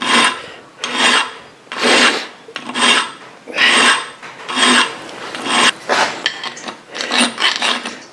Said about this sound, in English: Using a small bastard file here, it takes it off a bit quicker.